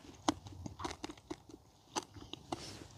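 Crisp, sharp crunches of a creme brulee's caramelized sugar crust break out at irregular moments, each a brief crackling snap up close, with quiet chewing between them.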